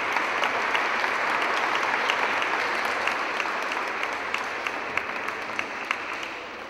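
An audience applauds at a graduation class day ceremony, sustained clapping from many people with a few distinct close claps, slowly easing off toward the end.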